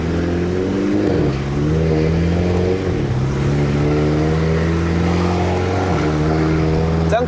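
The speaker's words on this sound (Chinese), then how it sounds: "开一点窗，毕竟这种车就是要听一点 exhaust 声" A tuned BMW F30 320i LCI making 330 hp and 480 Nm, driven in Sport Plus with a window cracked up a Genting mountain road, drones loudly from inside the cabin as the engine climbs through revs with several gear shifts.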